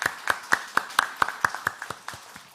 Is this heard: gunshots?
no